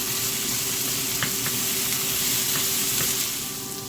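Garlic sizzling in a hot pan, a steady close frying hiss with a few faint clicks of stirring, continuous throughout.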